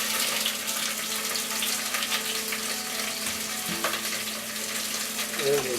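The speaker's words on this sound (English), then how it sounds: "the olive oil in the saucepan is plenty hot. We're going to add some greens," Greens and tomatoes fry in hot olive oil in a saucepan, a steady, close hiss and crackle that holds throughout, with a few soft clinks and scrapes near the end.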